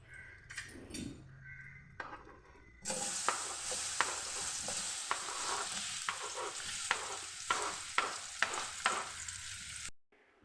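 Banana pieces frying in ghee in a pot, a steady close sizzle with a regular series of sharp spoon taps and stirring scrapes, preceded by quieter kitchen noise.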